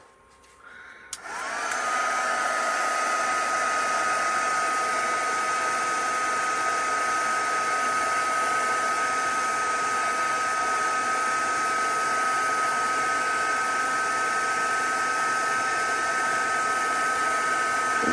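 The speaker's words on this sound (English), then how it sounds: "I want to try and get that crinkly effect that people do with the heat tool." A heat tool blows a steady, loud whirring airstream over UV resin, switching on after a second of quiet and then running unbroken at close range.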